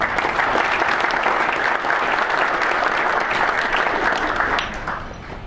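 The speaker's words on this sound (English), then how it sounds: "So round of applause for US Foods and Mark Mejia." Loud, sustained audience applause in a hall at the Southern California PGA golf association annual meeting, continuous for several seconds before easing off at the end.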